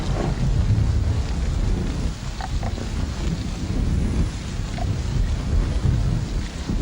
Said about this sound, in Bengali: বৃষ্টির ধারা অব্যাহত রইল।